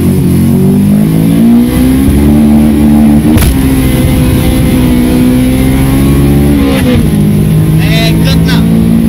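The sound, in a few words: car engine revving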